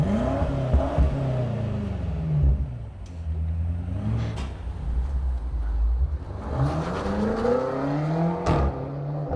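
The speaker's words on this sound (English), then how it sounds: "BMW M8 competition." A BMW M8 Competition accelerating hard, its engine revving up loudly through the gears with rising and falling pitch, close and powerful, twice in succession.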